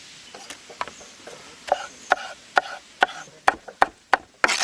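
Sharp knife chops strike a board while cutting jackfruit, in an irregular, quickening series of about a dozen crisp cuts, close up, with no talking.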